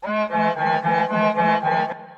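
FL Studio beat sample with light sidechain pumping, a steady pattern of pulsing chords whose level dips rhythmically, playing alone and fading out gently at the end.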